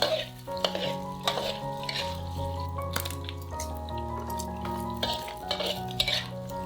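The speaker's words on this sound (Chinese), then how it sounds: "用中小火稍微多煸炒一会儿，把肉里的水分炒出来，蒸发掉，肉才更香。" Pork being stir-fried in a wok over medium-low heat to render out its fat, heard as a steady sizzle with repeated scraping stirs and clinks of a utensil against the pan, with music playing underneath.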